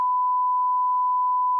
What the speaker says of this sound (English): you got to beep that out now